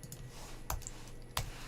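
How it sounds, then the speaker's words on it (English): A computer keyboard during a coding session gives two sharp, isolated key clicks about half a second apart, faint and close against a quiet room hiss. "Oh my god, I'm typing."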